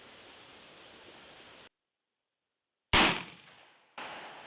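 A single loud gunshot strikes Cannae IIIA soft body armor, a sharp near blast with a quickly fading tail, set between stretches of background hiss and a short silent gap.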